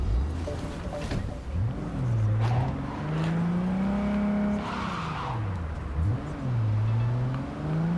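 A car drives off in Cyberpunk 2077 with a rising and falling engine whine that revs through several gear-like sweeps, plus tire skidding, loud and close throughout.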